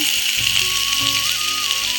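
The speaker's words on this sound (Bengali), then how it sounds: "এদিকে ফুলকপি আলু আর হচ্ছে পেঁয়াজ কলি দিয়ে ভাজা করছি" Cauliflower, potato and onion greens fry in oil with a steady, fairly loud sizzle throughout, accompanied by a faint tonal hum in the background.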